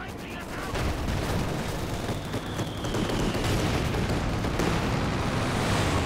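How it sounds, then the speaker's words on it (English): Stuka or Sturmovik air strike in Company of Heroes 2 fills the battle with a continuous, loud roar of explosions and gunfire. The blasts and shots overlap densely with no clear break throughout. "Another Stuka or Sturmovik strike."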